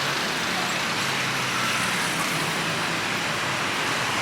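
Steady road traffic on a street in Colombia, with cars, buses and motorbikes passing close by in a continuous loud wash of engine and tyre noise, some riding up onto the sidewalk, and no voices.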